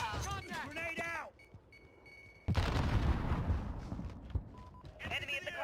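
A grenade goes off in Call of Duty Warzone with a sudden loud blast that rumbles on for several seconds, after a stretch where voices talk over quieter game sounds.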